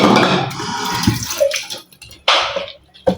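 Tap water runs and splashes over dishes being washed in a sink, loud and close, with gushes that stop and restart in uneven bursts and a few clinks between them.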